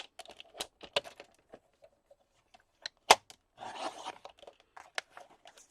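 Scissors snip a Manila file folder, several short crisp cuts scattered through quiet, then a burst of rustling paper near the end, close up.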